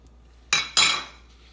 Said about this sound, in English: we're just going to break it up with our spatula